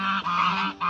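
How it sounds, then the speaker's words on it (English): Several angry geese honk loudly and close by in overlapping, harsh calls, with brief dips between bursts, heard near a heated hot tent at a camp. "Yeah, the geese are angry."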